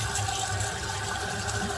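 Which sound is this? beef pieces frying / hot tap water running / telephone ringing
hot tap water running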